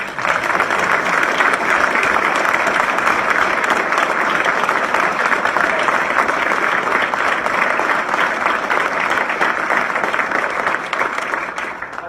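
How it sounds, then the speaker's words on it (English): Sustained audience applause fills the hall at a Maine Army National Guard brigadier general promotion ceremony, a steady dense wash of many hands clapping at full volume for about twelve seconds before easing slightly at the end. "Everyone, would you please join me in a round of applause for Roxanne?"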